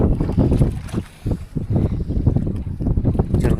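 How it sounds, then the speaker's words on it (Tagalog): Two boat engines chug and rumble close by in uneven low pulses at sea in a storm, mixed with strong wind noise buffeting the microphone. "Dalawang makina papaandar rin namin."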